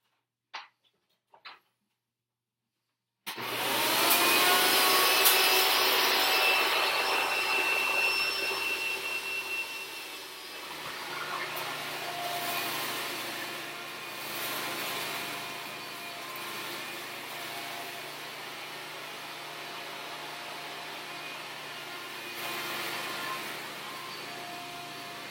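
A Hoover TurboPower 3200 vacuum cleaner starts after a few seconds of near silence and runs loud and steady at close range, its roaring whine dipping slightly midway and then holding.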